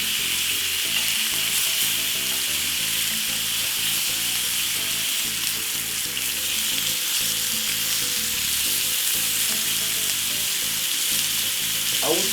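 A steak grilling in a hot pan, a loud steady sizzle and fry crackle running unbroken throughout, close and alone with no voices.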